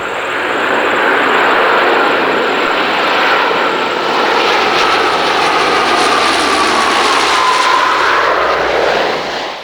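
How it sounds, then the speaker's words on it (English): A Lockheed P-3K Orion turboprop patrol aircraft of the RNZAF flies past at an air display at Omaka, a loud sustained engine roar with a slowly shifting whine that swells and holds before easing off. "Lockheed P-3K Orion is one of 6 currently in service."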